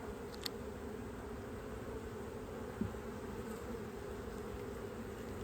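Honey bees buzz steadily at an opened hive during early-season feeding with candy pressed into the comb, a dense continuous drone with one faint tap partway through.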